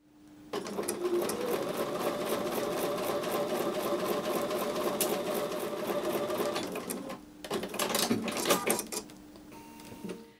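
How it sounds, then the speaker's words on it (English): A sewing machine stitches a 1/4 inch seam on a quilt block in a steady rapid run of needle strokes, pausing briefly before a shorter, choppier burst near the end, with no voices. "So I'm going to go back to the sewing machine and sew with a 1/4 inch seam."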